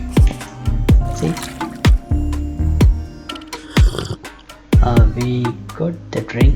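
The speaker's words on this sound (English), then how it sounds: "We got the drinking water sound." Drinking water sound effect in an Unreal Engine survival game, a series of wet gulps and liquid drips repeating in uneven bursts, loud and close, with no talk.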